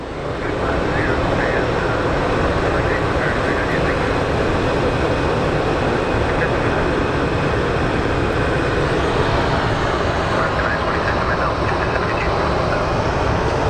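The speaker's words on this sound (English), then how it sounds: "Our Honolulu Dreamliner, American Airlines 692, is cleared for departure" An American Airlines Boeing 787 Dreamliner bound for Honolulu departs Phoenix Sky Harbor, a loud, steady broadband roar that holds unbroken from start to finish, with voices faintly present beneath it.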